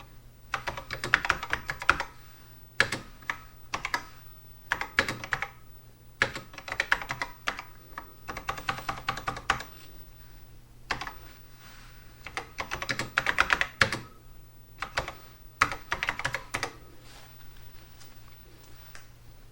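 Keys clacking on an old TRS-80 computer keyboard, close and crisp, in irregular bursts of rapid typing separated by short pauses.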